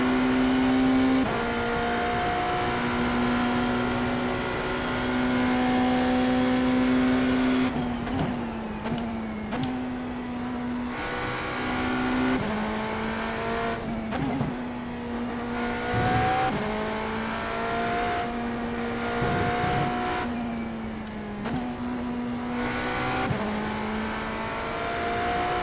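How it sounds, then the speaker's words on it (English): A BMW hybrid GTP prototype racing at Le Mans in a racing video game: a loud, steady engine drone that rises and drops with gear changes and braking throughout, with no talking. "I am driving the BMW hybrid this evening"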